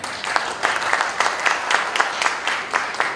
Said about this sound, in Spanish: Fuertes palmas para él, por favor